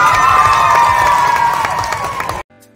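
A stage show audience bursts into loud applause and cheering as a singer comes on, a dense wall of clapping and shouts with a sustained tone over it, cutting off abruptly near the end.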